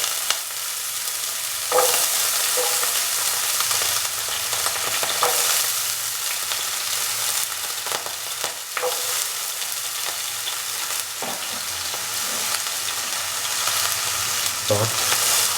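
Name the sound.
cubed potatoes frying and being stirred in pan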